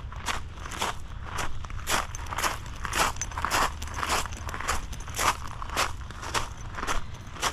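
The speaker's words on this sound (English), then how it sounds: "I like that sound. Let me know if you like that sound. Crunch, crunch, crunch." Footsteps crunch steadily on a gravel park path in New York, a regular walking rhythm of close, crisp crunches with no talking over them.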